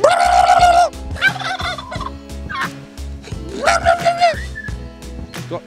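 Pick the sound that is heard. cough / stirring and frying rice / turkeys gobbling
turkeys gobbling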